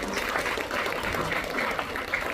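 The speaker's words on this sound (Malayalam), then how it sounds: "എല്ലാവരും ഒന്ന് കൈയടിച്ച് അനുമോദിക്കണം." Applause from an audience at a residents association gathering, greeting a re-elected MLA: a modest, steady patter of clapping at moderate distance with faint voices mixed in, sustained through the short moment.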